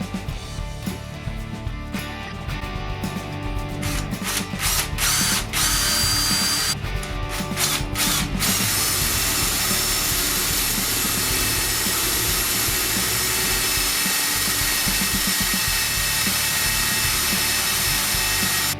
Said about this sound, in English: Use a smaller drill to start before using the bigger right size drill bit.